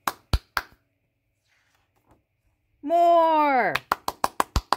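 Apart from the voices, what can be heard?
hands clapping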